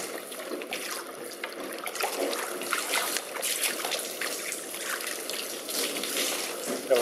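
Running water splashes and trickles steadily for several seconds while a wild salmon is rinsed, with small fluctuations in the flow.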